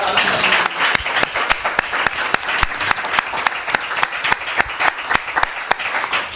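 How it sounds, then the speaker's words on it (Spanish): A crowd applauding the participants at a university event in Alicante, many hands clapping in a dense, continuous patter that holds for several seconds. "un aplauso para los participantes"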